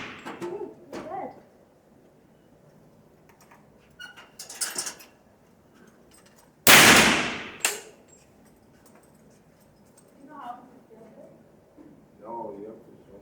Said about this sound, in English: You're gonna shoot 4 guns.